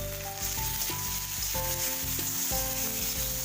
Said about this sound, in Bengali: এবার আমি এর মধ্যে চিংড়ি মাছগুলো দিয়ে দিচ্ছি। চিংড়ি মাছগুলোকে আমি নুন হলুদ মাখিয়ে রেখে দিয়েছিলাম।